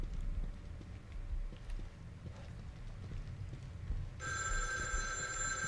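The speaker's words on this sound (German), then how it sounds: "Wo war das klingelnde Telefon?" A telephone rings in the survival horror game The Evil Within 2, a bright electronic trill that starts abruptly near the end over low ambient rumble and faint footsteps.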